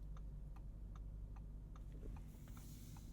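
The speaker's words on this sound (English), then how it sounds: "Turn signal sound." A 2022 Audi RS6 Avant's turn signal ticks in a steady, even rhythm, soft clicks over a low interior hum.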